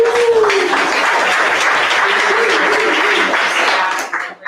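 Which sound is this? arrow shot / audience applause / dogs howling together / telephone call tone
audience applause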